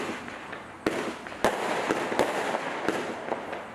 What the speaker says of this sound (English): Fiesta is a 30 shot fanned cake.